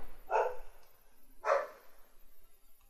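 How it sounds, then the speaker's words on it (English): A dog barks twice in the background of an indoor room, two separate mid-distance woofs about a second apart with quiet between them. "Sorry about the dog in the background, she's just heard something she doesn't like."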